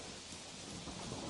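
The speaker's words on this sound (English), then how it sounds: "a storm blew in. Big black clouds rolled across the sky, and the thunder shouted" A storm of heavy rain and thunder forms a dense, constant roar that fills the whole stretch, with a low rumble underneath and no voices.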